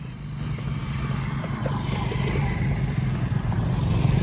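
A group of off-road motorcycles rides along a rough dirt track toward a hilltop temple, giving a steady low engine rumble that builds slightly in loudness throughout.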